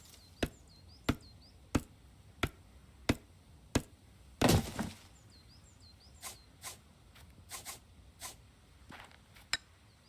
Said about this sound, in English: a dead tree has a different sound effect when you're chopping it